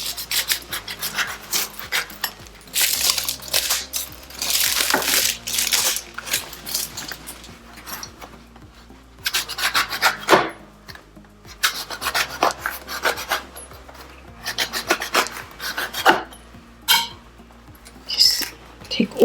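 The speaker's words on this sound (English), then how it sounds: "now I'm going to cut the pomelo" A knife cuts and peels the thick skin of a pomelo for a salad, making irregular rasping, scraping strokes in bursts at close range with soft kitchen clatter between.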